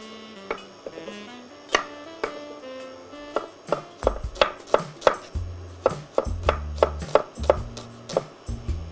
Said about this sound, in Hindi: तब तक मेरा जो अनियन है उसको थोड़ा चॉप कर लेते हैं।